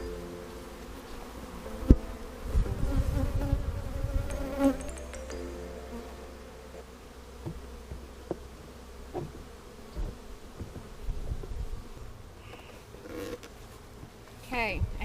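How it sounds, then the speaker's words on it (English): Honey bees swarm and buzz around an open hive as a honey super is installed, a steady insect drone with close passes and occasional knocks and handling thumps of the hive boxes. "I am going to now shake these bees down"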